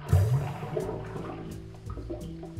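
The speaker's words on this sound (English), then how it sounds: "we are going to add your silver tequila of choice" Silver tequila pours from a bottle into a champagne margarita, a soft gurgling liquid splash heard close up that settles into faint trickling, with no talking.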